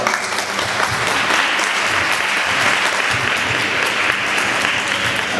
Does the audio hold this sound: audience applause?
yes